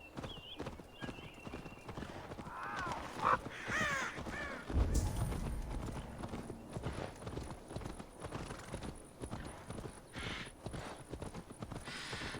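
Crows caw repeatedly in Assassin's Creed Valhalla, a cluster of harsh calls early on, over steady clip-clopping horse hooves that continue throughout.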